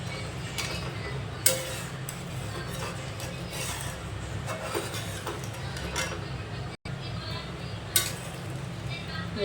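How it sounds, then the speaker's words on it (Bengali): Ghugni of peas cooked with mutton fat simmering in a pot while being stirred, a low steady bubbling bed with occasional spoon scrapes and clinks, close and without talk. "এবার সুন্দর করে ফুটিয়ে নেব ঘুগনিটা"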